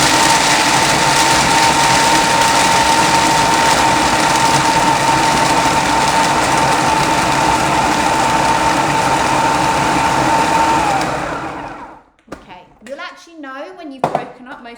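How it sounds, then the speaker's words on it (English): A food processor runs steadily as it chops nuts for flapjacks. The loud, continuous whirring and rattling grinds on for about eleven seconds, then stops, and a voice begins speaking. "once we've whizzed these up"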